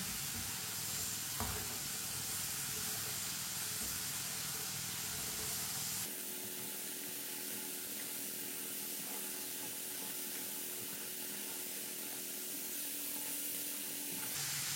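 French fries frying in clean oil while a spoon stirs them, giving a steady, dense sizzle and hiss throughout, with occasional scraping of the spoon; no one speaks.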